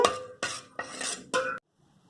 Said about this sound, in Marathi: लसूण आणि आलं चेचून झालं